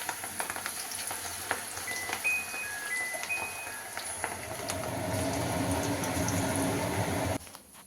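Pakoda fritters dropped into heated oil give a steady, close crackling sizzle that swells louder toward the end before cutting off abruptly, with no voices.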